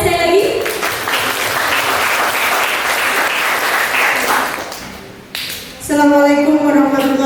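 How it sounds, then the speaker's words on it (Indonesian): An audience at an Indonesian vocational school event applauds loudly for a welcomed guest, the clapping fading before a brief gap and then giving way to a voice speaking. "Tepuk tangannya sekali lagi."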